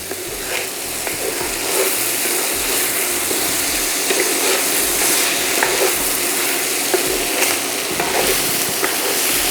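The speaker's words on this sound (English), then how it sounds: "Make sure to fry the rice for about 1 minute. That helps the rice cook faster, by the way. So just keep stirring it." Uncooked rice fries in a pan for Cajun dirty rice, a loud continuous sizzle with repeated stirring scrapes from a spoon throughout, with no talking.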